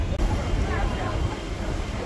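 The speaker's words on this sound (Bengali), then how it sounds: "আমাদের ট্রেন তার নির্দিষ্ট সময় শিয়ালদা স্টেশন ছেড়ে বেরিয়ে গেল" A Canning-bound local train pulls out of Sealdah station: a steady, dense low rumble of wheels and carriage noise with a broad hiss above, continuous for the whole stretch, with no clear horn.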